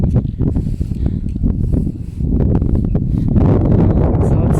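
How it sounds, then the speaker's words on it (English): Strong wind buffets the microphone in loud, rumbling gusts at a cemetery and church ruins, building and growing steadier toward the end, close and harsh. "It's getting very windy here"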